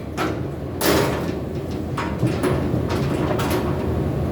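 Metal wind-block clips scrape and slide into the sides of a Coleman two-burner propane camp stove, followed by several sharp clicks and knocks as they lock in place, close and loud.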